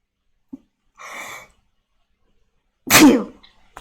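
A single loud, close sneeze bursts out alone near the end, preceded by a short sniff and a brief breathy intake, with silence in between.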